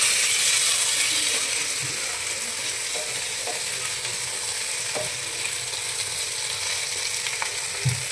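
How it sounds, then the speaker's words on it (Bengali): Bhetki fish paturi parcels are turned over in a covered frying pan, with a constant light sizzle under scattered clicks and scrapes from the utensil and pan, close and continuous. "ঢাকনাটা তুলে আমি একটু মাছগুলো একটু এপিট ওপিট করে নেবো"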